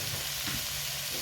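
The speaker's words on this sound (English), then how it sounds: "I'm going to give this a good wee stir fry" Chicken lo mein vegetables stir-frying in a hot pan give off a loud, dense, continuous sizzle that stays even throughout, close by and with no voices over it.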